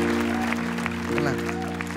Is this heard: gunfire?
no